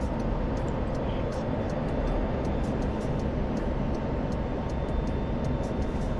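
Jet engine afterburner lit in a flight combat game, a steady, loud, broadband roar that holds constant throughout with faint ticking clicks on top and no voices.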